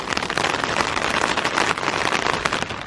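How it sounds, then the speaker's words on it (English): Light rain patters steadily on a tent in the woods at night, giving a dense, close crackling of many small drops with no talking. "finally started raining a little bit"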